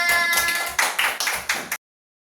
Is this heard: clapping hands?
yes